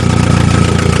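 A Nissan 200SX with a tractor exhaust cover fitted on its muffler idles, giving a loud, steady, throbbing engine drone with a fast pulsing rhythm at close range.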